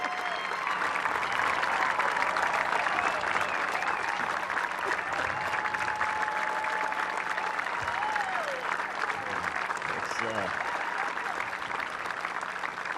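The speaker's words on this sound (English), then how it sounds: "You have no idea what that applause did for me." Sustained audience applause at an outdoor space shuttle ceremony at Kennedy Space Center, a dense wash of clapping throughout, with faint cheers and a voice rising briefly beneath it.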